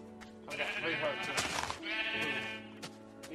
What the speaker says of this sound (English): Yeah, I'm just slaughtering sheep and cows,